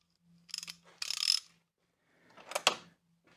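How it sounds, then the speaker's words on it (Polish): A wrench working loose the bolts on a rear bicycle luggage rack, giving a few close bursts of ratcheting and metal clicks separated by short pauses over a faint hum. "Przydadzą mi się klucze, bo w sumie odkręciłbym ten tylny bagażnik"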